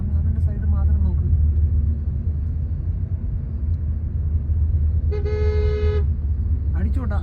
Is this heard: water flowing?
no